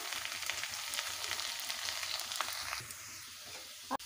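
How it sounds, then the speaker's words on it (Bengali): Potato and carrot pieces fry in a pan with a steady, soft sizzle and faint stirring scrapes. A brief clatter comes near the end. "আলু গাজরগুলো ভালোভাবে ভেজে নিয়েছি"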